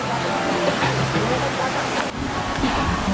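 River water rushing steadily near Eagle Waterfalls in Jianshi, Taiwan, a loud continuous broadband wash with a brief dip partway through and no clear talk over it.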